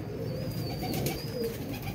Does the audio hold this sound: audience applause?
no